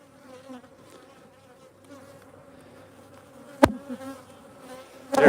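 Honey bees buzz steadily in a low, droning swarm close by during a midwinter hive inspection, with a couple of sharp knocks and rustles over the hum.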